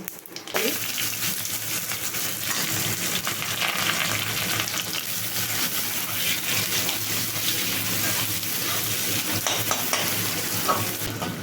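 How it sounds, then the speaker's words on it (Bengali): Loud, continuous sizzling of whole spices and bay leaves frying in hot oil close by, a steady crackling hiss broken by occasional stirring. "আর তেজপাতা ফোড়ন দিয়ে দিচ্ছি দিয়ে এবার ফোড়নটা ভাজা হয়ে গেলে"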